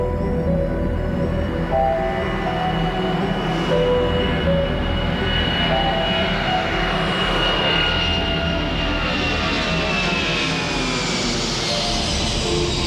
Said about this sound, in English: The United Airlines DC-10 leaves Denver bound for Chicago and Philadelphia with